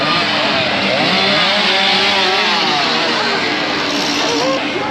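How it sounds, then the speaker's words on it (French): Chainsaws rev loudly and continuously inside a Halloween haunted maze at Walibi Belgium, a dense, snarling engine roar rising and falling in pitch with no break. "Ils aiment les tronçonneuses, je peux vous dire qu'il y en a un paquet."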